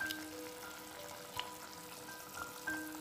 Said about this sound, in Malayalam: ഇതിലേക്ക് നമ്മൾ ഷാലോ ഫ്രൈ ആക്കി വെച്ചേക്കുന്ന മീനിട്ട് കൊടുക്കാം.